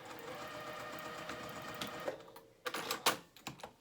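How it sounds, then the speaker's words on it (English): A sewing machine runs a seam on a dress, a steady whirring stitch that continues for a couple of seconds before breaking into short bursts and stops, with some light handling noise. "sew that at 1/2 an inch seam allowance"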